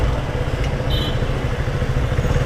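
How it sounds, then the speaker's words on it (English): A motorcycle rides along a road in Chandigarh, with a steady loud rumbling engine and wind noise throughout. "This bike feels pretty smooth as compared to mine."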